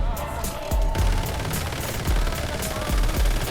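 Gunfire in Once Human: steady, close automatic bursts with heavy thumping shots recurring in a regular rhythm over a dense battle background.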